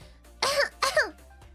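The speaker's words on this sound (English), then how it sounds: "Oh my god, my cough." A person coughs and clears their throat twice in quick succession, close and fairly loud over a quiet background hum.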